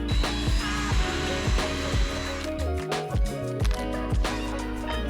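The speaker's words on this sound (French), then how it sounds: "je visse et je préperce les autres trous directement avec la charnière en position" A cordless drill runs in rhythmic bursts while pre-drilling and driving screws through a hinge into a wooden cabinet for a van, its motor whine rising and falling up close over a steady background hum.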